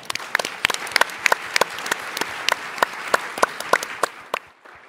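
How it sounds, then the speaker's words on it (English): Applause from a sparse audience at a startup pitch competition, with individual claps standing out sharply over a softer background patter before fading away at the end. "Give them a round of applause"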